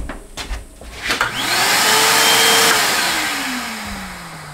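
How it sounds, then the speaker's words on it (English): A vacuum cleaner switches on in a mobile home living room after a few knocks, its motor whining up to a loud steady roar and then easing slightly as it works a spot on the floor. "So now we're gonna get a spot vacuumed up just where we're gonna work, probably right here in the living room."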